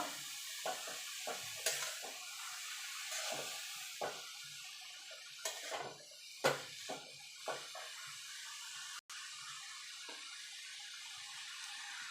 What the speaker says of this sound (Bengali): ভালো করে মশলার সঙ্গে বাঁধাকপিটা মিশিয়ে নেব, মিক্স করে নেব